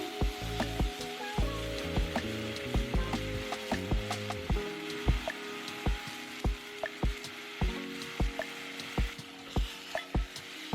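Vegan steak seasoned with Montreal steak seasoning and vegan Worcestershire sizzles steadily in a frying pan, with a soft continuous hiss and regular light clicks and taps running over it.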